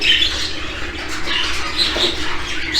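A female show jumbo budgerigar in a breeding setup squawks repeatedly in short, harsh, close calls over a steady background hum of aviary birds.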